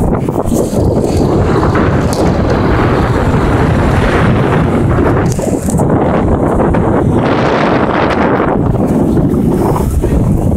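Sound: strong wind

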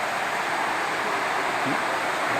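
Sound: waterfall flowing from a dam

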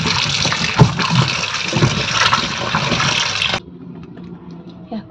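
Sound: water washing flat beans

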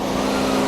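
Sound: Toyota Camry 2.5 hybrid engine running

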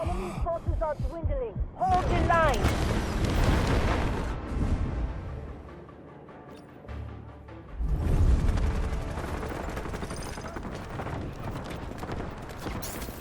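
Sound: gunfire and explosions in video game Delta Force

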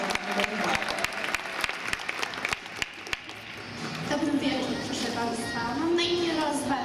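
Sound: audience applause at a beauty pageant

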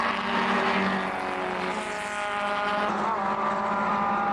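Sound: historic Elva race cars racing at Mallory Park

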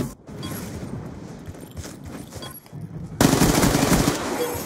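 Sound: gunfire in a video game

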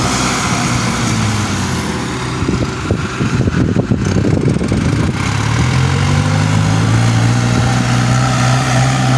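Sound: tractor engine running

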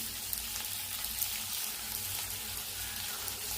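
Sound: onions frying in a pan for Kottayam-style beef curry

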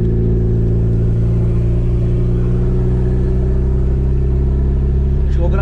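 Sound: Chevette 1.6 OHC turbo car engine revving

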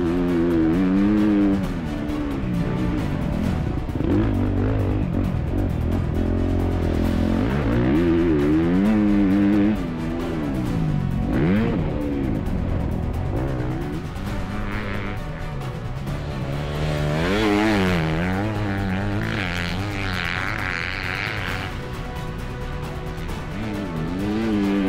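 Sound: Honda CRF250R dirt bike riding a hot lap

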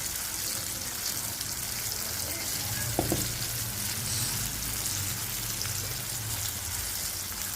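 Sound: onion frying in a pan

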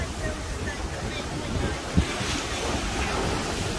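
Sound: wind and big waves at a sea cliff

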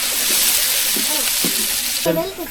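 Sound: onions frying in a pan

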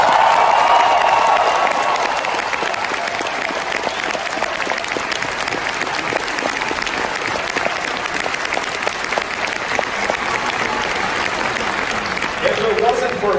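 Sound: audience applause at a Star Wars convention panel

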